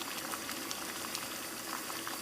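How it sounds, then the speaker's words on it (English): Sixteen ounces of water bubbles at a rolling boil in a can over a penny stove, a dense continuous gurgling and popping heard up close with no talking. "So there we have it, it's boiling, no doubt about it."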